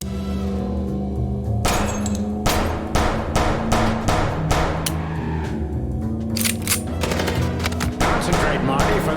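Sharp, evenly spaced gunshots ring out during a shootout in Chicken Police, a steady string of loud close cracks over a low engine-like drone, with voices talking between shots.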